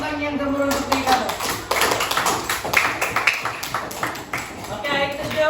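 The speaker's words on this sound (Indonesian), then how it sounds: "Jadi bagi tepukan yang gemuruh untuk diri kamu." A school class claps for a pupil who has just recited a gurindam in a Malay-language lesson. The applause is steady, crowded and moderately loud, and a voice talks over it.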